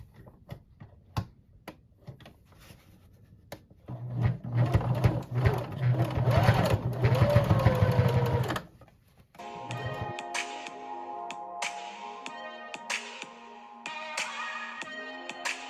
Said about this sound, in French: coudre tout droit le long de la fermeture